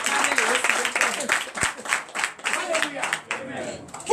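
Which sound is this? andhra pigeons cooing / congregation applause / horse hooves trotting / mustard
congregation applause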